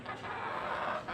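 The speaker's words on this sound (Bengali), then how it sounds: "এই যে আমার দেশি মুরগি আছে, ডিম দিয়ে বসানো আছে" A desi hen sitting on eggs gives a brief, soft clucking murmur, close and fairly quiet, lasting about a second.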